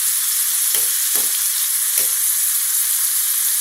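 Chicken pieces for stir fry sizzle and crackle steadily in a hot pan, a loud, close, continuous frying hiss with a few soft stirring bumps.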